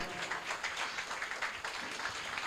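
A congregation applauds the builder at a church dedication service for a 27th anniversary, a steady wash of many hands clapping at once, fairly distant and even, without any voices on top.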